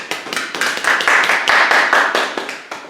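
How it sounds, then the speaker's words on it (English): Brief applause from a small audience at a Black history school session, a handful of people clapping in close, fairly loud bursts that swell and then fade over a few seconds. "so give him a round of applause, please."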